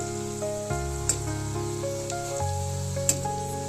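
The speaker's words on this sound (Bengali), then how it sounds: "এইভাবে আমি এক একে পিঠেগুলো সব দিয়ে দেবো তো কিছুক্ষণ ভাজা করার পর আমি একটু উল্টে দিচ্ছি" Coconut pitha cakes fry in hot oil with a steady, close sizzle running throughout, broken by a few soft clicks and handling noises. Faint tonal background sounds sit beneath it.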